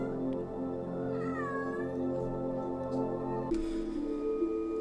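A pet cat meows near the microphone, a rising-falling call around the middle over a steady indoor background hum, followed by a brief rustle.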